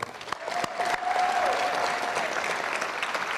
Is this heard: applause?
yes